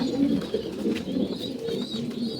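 A pair of Bagha pigeons, male and female, coo continuously in soft low throaty rolls, close by with no talk.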